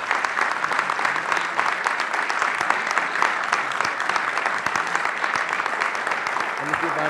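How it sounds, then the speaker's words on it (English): Steady applause from an audience at a National Press Club talk, filling the whole stretch with dense, even clapping and no voices over it. "Ladies and gentlemen, how about a round of applause for our speaker?"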